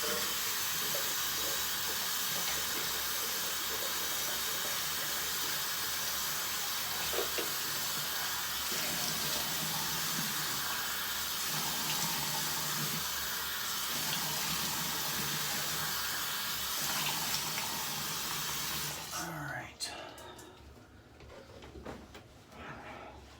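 A steady, strong hiss of running tap water for rinsing after a shave, close and continuous for about twenty seconds before it is shut off, leaving quieter handling sounds.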